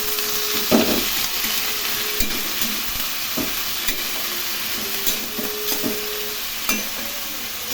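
Eggplant added to fried potatoes sizzles in hot oil in a pan, a steady crackling hiss broken by several sharp knocks and scrapes of a stirring utensil, with no speech.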